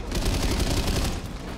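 Rapid automatic gunfire from the video game Synced, a loud, continuous burst of closely spaced shots with no pauses or talk.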